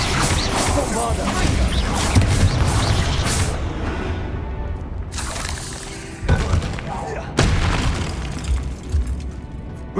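Bombarda explosion spell cast in the video game Hogwarts Legacy, with dense booming blasts and crashing debris running through the whole stretch and several sharp renewed bursts near the end, under a constant game soundscape.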